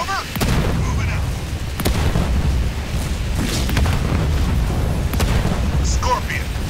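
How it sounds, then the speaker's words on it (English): Heavy artillery booms and vehicle gunfire from a Halo Wars 2 battle, loud sharp blasts recurring every second or two over a dense rumbling bed of combat noise, with faint radio voices mixed in. "I'm under hostile vehicle fire."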